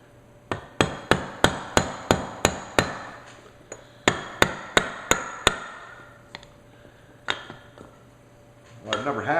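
Sharp metallic hammer strikes drive a spring-loaded part into a Masterpiece Arms MPA 930 Mini 9 pistol, a close, loud run of rapid evenly spaced blows, a pause, then a second burst and a few scattered taps.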